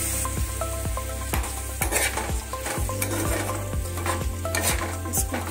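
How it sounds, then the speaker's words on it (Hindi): Chopped tomatoes and onions frying in oil in a kadhai over high heat, a steady loud sizzle with repeated sharp clinks and scrapes of a spoon stirring against the metal pan. "अब इसमें हम कढ़ाई में इसको हम डाल के थोड़ा भून लेंगे।"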